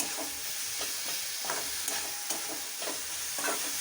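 Spices being sautéed in a pan for chicken khichuri, a soft steady sizzle with rhythmic stirring strokes scraping the pan roughly every half second.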